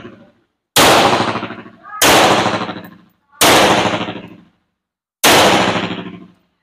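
A Beretta 92FS 9 mm pistol fires four loud, close single shots spaced about a second and a half apart, each with a sharp crack and a ringing decay, with no talk over them.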